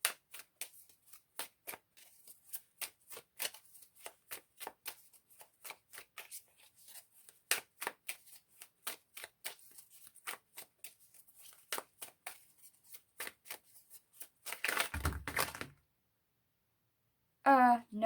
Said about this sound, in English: That was such a bad shuffle.